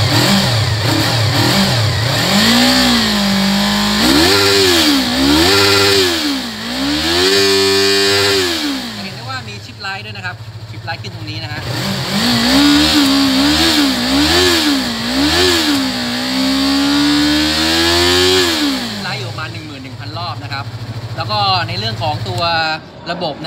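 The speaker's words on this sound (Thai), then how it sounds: "เดี๋ยวลองสตาร์ทดูนะฮะว่ารอบจะฟาดยังไงบ้างนะครับ" A cold Yamaha MT-03 motorcycle's 321cc engine close by revs up and down repeatedly, climbing and falling in pitch, then drops to a rough idle between revving bursts.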